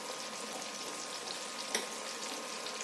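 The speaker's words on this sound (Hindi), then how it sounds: "तो अब इसमें टमाटर डाल दूंगी मैं, टमाटर के साथ साथ में इसमें नमक भी डाल दूँगी ताकि टमाटर भून जाए" Tomatoes with salt fry in a pan, giving a steady, faint hiss of sizzling with one brief clink partway through and no talking.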